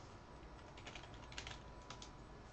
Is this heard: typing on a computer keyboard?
yes